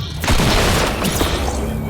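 Bursts of gunfire in Fortnite, a loud booming volley of shots that rings out densely and continues in a heavy sustained barrage, close and forceful.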